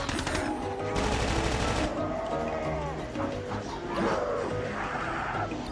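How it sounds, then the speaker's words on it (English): Rapid automatic gunfire rattles in a battle royale video game firefight, dense bursts of shots continuing under excited commentary, with vehicle engine noise mixed in. "Zion and Azdin seem to be exchanging fire"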